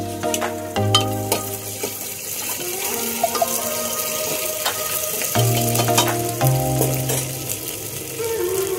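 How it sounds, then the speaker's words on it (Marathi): Whole spices and onion fry and sizzle in a pan, a steady crackle under intermittent clinks and tonal kitchen sounds, close by and without speech. "खडे मसाले घालून घेऊया आपण, कारण ते कांद्याबरोबर भाजले जातात"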